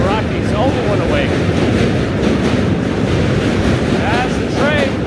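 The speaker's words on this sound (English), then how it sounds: "As the train passes us." A subway train crosses the Manhattan Bridge in New York City, heard close and loud as a continuous rumbling roar with squealing wheels, mixed with wind buffeting the microphone.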